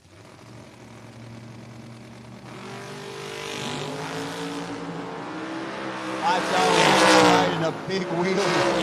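A 1979 Pontiac Le Mans drag car at a no-box drag race launches from the line with a rising engine roar that swells loud and harsh, heard from a distance under crowd noise and track announcing.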